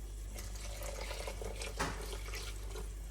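Pasta cooking water being poured into a thick white sauce in a home kitchen, a steady close liquid stream splashing into the pan, with no talk.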